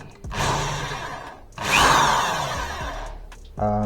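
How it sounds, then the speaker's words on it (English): A handheld power drill with a step drill bit is used freehand, making two sustained whining bursts of drilling separated by a short pause, loud and close. A motor starts up again at the end. "Freehand drilling, yeah, I'm an expert, kind of."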